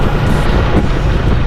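Strong wind buffets the microphone at the seaside where waves are high, a loud, continuous low roar with no pauses across the short stretch.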